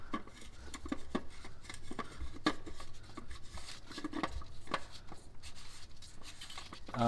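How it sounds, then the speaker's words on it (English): An oil filter being screwed back onto a 2009-2013 Toyota Corolla engine with a socket, giving faint intermittent metallic clicks and scraping threads, close and quiet with no talking. "now we're going to screw the filter back in"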